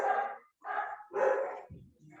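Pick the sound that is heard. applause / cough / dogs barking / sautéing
dogs barking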